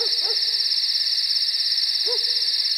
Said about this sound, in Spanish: ¿Canta un gran búho?